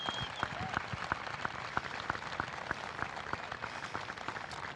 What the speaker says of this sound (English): Round of applause for all of you making that happen.